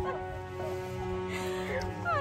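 A puppy whimpers and gives small yips during an excited reunion with its owner, soft high-pitched cries heard faintly through the whole short moment.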